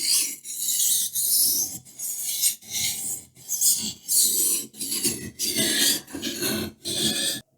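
A knife blade is drawn back and forth across a wet sharpening stone at a 15-degree angle, giving close, rhythmic rasping strokes about two per second with short gaps between them.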